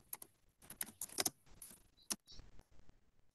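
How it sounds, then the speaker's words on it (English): Keyboard typing during an online meeting, an irregular run of close clicks and clacks in bursts with short pauses, quiet and without talking. "I can hear typing."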